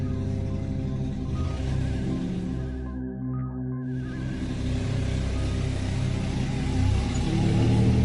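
A car drives through a dark forest at night, its engine rumbling steadily and close throughout, with a brief dip in the noise partway through before the motor swells again.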